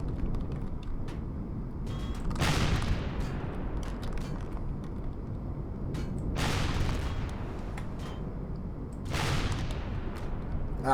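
Rockets fire in the space survival game Empyrion, three loud whooshing bursts about four seconds apart over a steady rumbling engine hum.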